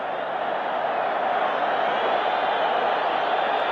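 Football stadium crowd at a Boca Juniors versus River Plate league match, a broad, steady roar of thousands of distant voices cheering and chanting, unbroken throughout with no clear single voice.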